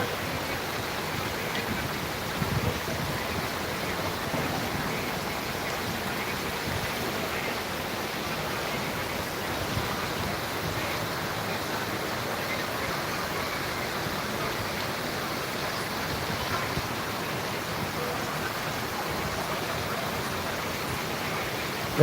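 A heavy downpour on a road at Kajla, Jatrabari in Dhaka produces a constant broad rushing hiss, even and unbroken throughout, fairly soft and with no voices heard.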